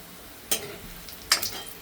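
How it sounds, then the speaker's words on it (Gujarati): Methi gatta dough pieces drop into hot oil in two quick bursts of crackling sizzle, each fading into a softer fry, with no talk. "હવે આપણે એને બધાને ફ્રાય કરી લેશું"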